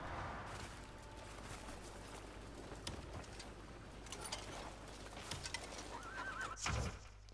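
A horse neighs in the video game Crimson Desert, a brief whinny near the end over a steady low background of game ambience.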